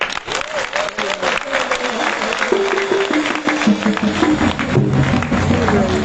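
A church congregation at a spiritual retreat applauding and cheering in praise, with sustained loud clapping from a crowd mixed with voices calling out and speech over it.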